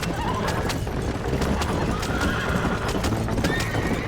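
Horses whinny loudly over a steady clip-clop of hooves, with a busy, continuous background of galloping movement, in the video game Red Dead Redemption.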